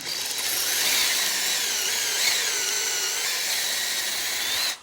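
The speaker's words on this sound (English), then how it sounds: "And it drills a hole." A power drill set to a half-inch depth bores partway into a piece of wood, its steady high grinding whine running close and loud for about five seconds before cutting off abruptly, with no talking.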